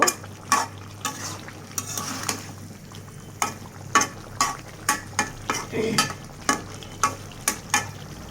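Kalbaush fish fries in a pan with potato and beans, a low sizzle under repeated sharp scrapes and clinks of a utensil stirring, roughly one stroke every half second, close and clear.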